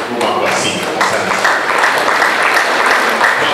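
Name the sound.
applause from mourners at a funeral gathering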